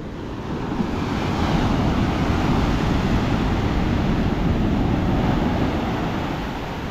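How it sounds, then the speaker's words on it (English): Ocean surf off the coast of Indonesia roars steadily as waves wash in and churn, a continuous loud rush with wind buffeting the microphone and no voices. "Look at the waves."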